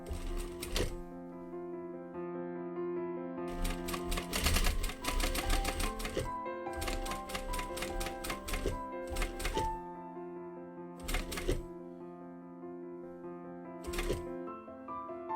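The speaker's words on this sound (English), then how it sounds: "So I'm going to be sewing on this line." A sewing machine stitches a shirt collar along a drawn line in several bursts of rapid, even needle clatter separated by pauses, close and clear with no talking.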